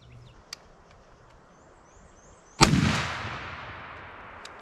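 A single loud 12-gauge shotgun blast fired with a Remington TSS load at a 50-yard target outdoors, a sharp crack followed by a long decaying rumble, with faint birdsong and a few small clicks around it.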